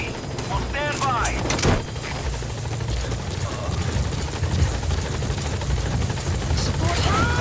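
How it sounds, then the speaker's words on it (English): Support helicopter Pequod from Metal Gear Solid V thuds loud and close as it arrives at the landing zone, a continuous rotor roar with brief bursts of gunfire and voices talking over it. "Support helicopter has arrived."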